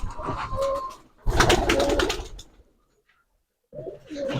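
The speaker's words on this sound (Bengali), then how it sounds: "অনেক কবুতর" Giribaz pigeons on a large pigeon farm in Rajshahi, a flock cooing in two close bursts with a short silent gap between them, plus faint wing and cage noise.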